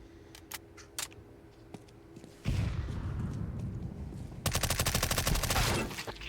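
Rapid MP5 submachine gun fire in Counter Strike 2, with scattered single shots early, then a dense, loud burst of automatic fire toward the end over game ambience.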